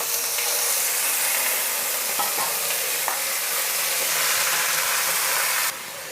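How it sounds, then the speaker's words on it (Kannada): Chicken frying with onions and curry leaves in a pot, making a loud, continuous close sizzle with a few stirring knocks. The sizzle drops in level near the end. "ಈರುಳ್ಳಿ ಫ್ರೈ ಆಗಿದೆ. ಚಿಕನ್ನ ಸೇರಿಸ್ಕೊಳ್ತೀನಿ ಫಸ್ಟು."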